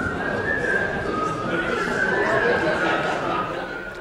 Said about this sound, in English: That's humming and whistling in British Parliament as its members vote on Brexit.